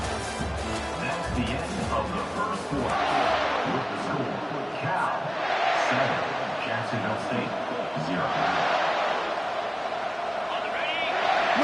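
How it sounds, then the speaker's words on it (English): A college football stadium crowd roars and cheers in surging waves, loud and broad, with a commentator talking over it. "Listen to the crowd energy here in the early going"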